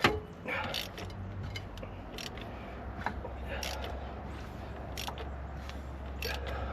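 Repeated ratcheting clicks come in short bursts over a low mechanical hum, close by and moderately loud, with pauses between strokes, as a ratchet turns over the engine of a 1976 Glastron boat.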